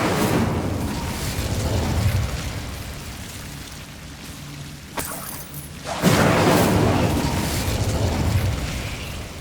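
Fiery burst from the Incendio spell in Hogwarts Legacy, a broad roaring whoosh that swells, dips briefly, then erupts again loudly and sustains with crackling texture.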